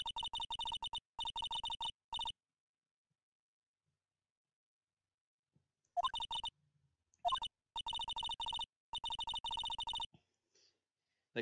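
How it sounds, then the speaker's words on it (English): Electronic beeping from the Phoenix Wright: Ace Attorney courtroom game plays in rapid bursts of steady tones, stopping for a few seconds in the middle and then returning, loud and clean with no voices over it. "There's beeping again."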